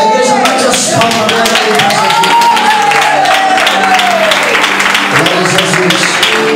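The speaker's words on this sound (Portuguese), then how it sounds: "A igreja bate as palmas." Church congregation clapping during a worship service, a dense sustained wash of hands with voices and a musical tone running underneath throughout.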